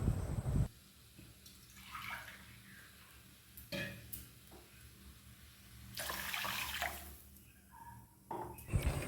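One cup of water goes into a kadai holding a cup of sugar for syrup: soft splashing and trickling bursts, quiet and close, with a few light knocks of the vessel.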